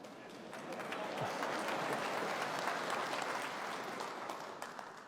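Audience applause fills a conference hall during a Conservative MEP's speech, a steady wash of many hands clapping at moderate distance, holding for several seconds and tapering slightly at the end.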